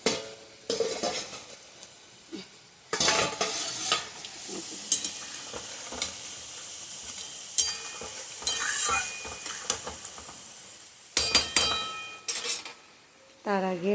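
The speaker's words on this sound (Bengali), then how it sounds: "এখানে দেখো আলু পোস্ত হচ্ছে, এখানে সোয়াবিন বসান" Soybeans frying in a pan in a home kitchen, with bursts of loud sizzling, spatula stirring and clinks of utensils against metal, close up and without talk.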